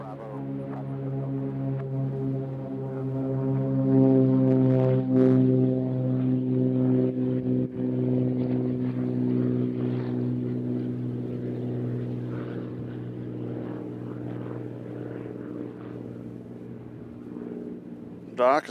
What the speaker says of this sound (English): This is our first takeoff of the day.